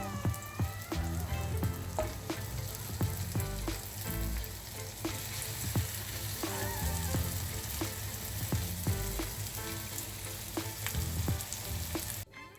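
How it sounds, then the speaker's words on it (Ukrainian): Steady, close sizzling of bread slices frying in hot oil in a pan, with crackles and pops running throughout. "починаємо смажити грінки тільки з одного боку"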